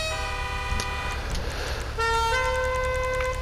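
Car horn of the Overflod Entity XF in GTA Online, sounding as sustained steady tones that break briefly and resume, loud and close.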